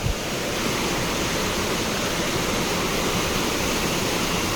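Heavy water pours down a waterfall in a forest, a dense, loud, unbroken roar that stays steady from start to end, with no talking.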